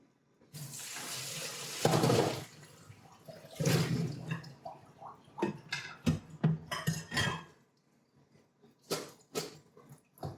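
Water runs and splashes as soaked cubed potatoes are drained in a kitchen sink for soup, with bursts of pouring interspersed with clinks of a pot and dishes, close by and without speech.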